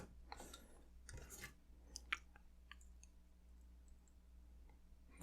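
Thin jewelry wire snipped while wire wrapping a small moon cabochon: a few small sharp clicks and light handling rustles, close and quiet, with no talk.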